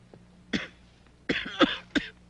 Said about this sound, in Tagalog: Mahina na rin ang pulmon nyo, kaya kayo inuubo.